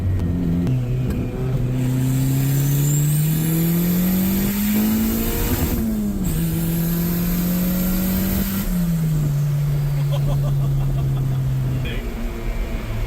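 A rebuilt turbocharged Honda Civic pulls hard through the gears, its loud engine note climbing steadily, dropping briefly at a shift, then climbing again before easing off, heard from inside the car.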